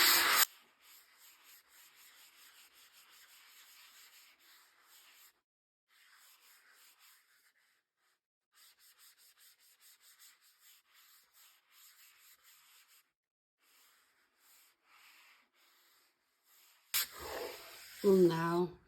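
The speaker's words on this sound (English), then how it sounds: "I will go over with this little sanding block because it is a little rough right now." A small sanding block rubs back and forth over a stained laser-cut wooden tray in repeated raspy strokes, quiet and close, with short pauses between passes and a voice speaking at the end.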